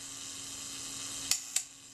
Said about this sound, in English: The self-timer is running down.